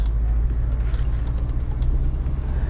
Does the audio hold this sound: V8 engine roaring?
yes